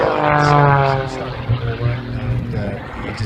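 An Avro Vulcan flies at an airshow with a loud, rumbling jet roar that swells and then steadies at a distance, some background chatter beneath.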